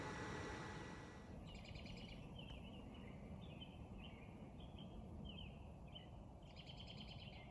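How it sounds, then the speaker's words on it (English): Small birds sing near a campsite at sunset, with repeated short chirping phrases over a soft, steady outdoor background. The song is faint and moderately distant and comes in bursts across several seconds. "Just been hanging out, listening to the birds"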